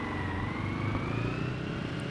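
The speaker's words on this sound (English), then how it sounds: "Oh, it has a normal car horn too." In the video game SCUM, a 4x4 quad vehicle sounds an ordinary car horn as one sustained tone over engine rumble.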